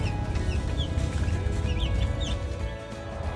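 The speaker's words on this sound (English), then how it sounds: "We have our chickens in the background." Chickens cluck and chirp softly in the background over a constant low rumble, with short, scattered calls across the whole stretch.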